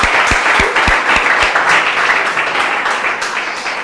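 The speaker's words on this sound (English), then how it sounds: "Give me a round of applause" An audience bursts into loud, dense applause at a Ghanaian quiz show, a few sharp near claps standing out at first before the crowd's clapping gradually eases off.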